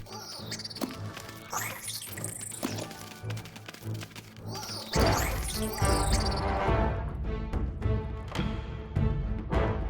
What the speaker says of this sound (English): A mole cricket is burrowing into the nest.